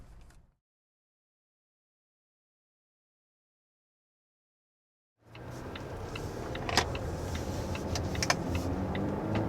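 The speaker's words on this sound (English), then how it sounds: "there was an acceleration up to 60 miles per hour with the 2023 XC90" A 2023 Volvo XC90 with a mild hybrid engine accelerates toward 60 mph. After several seconds of near silence, a steady, fairly loud wash of engine and road noise starts abruptly and holds without talk.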